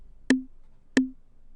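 Two crisp metronome ticks at 90 beats per minute, each with a short pitched ring, spaced evenly against near silence.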